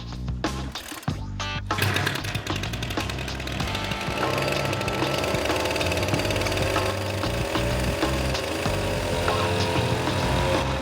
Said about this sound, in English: The new weed whacker is actually working fine. It's whacking away.